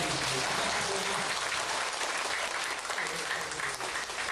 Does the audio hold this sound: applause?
yes